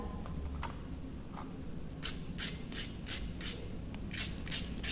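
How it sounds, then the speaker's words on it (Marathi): Soft, quiet crunching of a crispy fried upvas (fasting) cutlet, a series of short crackly bites repeating irregularly, close and faint with no talking. "किती क्रिस्पी याचा आवाज येतोय"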